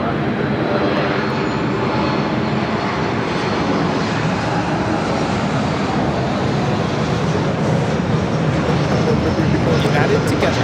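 A Southwest airliner takes off from runway 24 left at LAX, a loud, unbroken broadband engine roar that holds steady for the whole stretch without easing.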